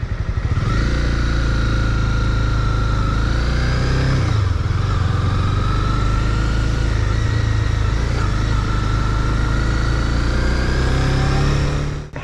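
A motorcycle engine, being prepped for winter, struggling to run: a loud, close, continuous labored drone for about twelve seconds, its pitch wavering and dipping briefly midway before steadying, then cutting off.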